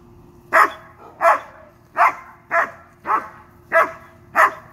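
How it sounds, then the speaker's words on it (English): A dog barks sharply seven times in an even rhythm, loud and close, with brief pauses between each bark. "She just barks at him."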